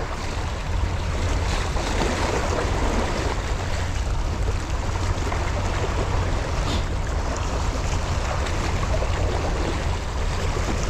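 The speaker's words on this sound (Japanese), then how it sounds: "波が来た。" Waves wash in steadily along a river shore on the Old Edogawa, a broad constant surge of water with wind noise, close and loud, no voices.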